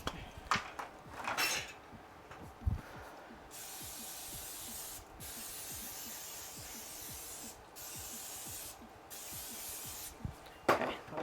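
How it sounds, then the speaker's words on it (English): Cooking spray hisses onto a waffle iron in several bursts, one long steady spray flanked by shorter ones, close up, with light clinks of metal and dishes around it. "let the cooking spray sit for a second"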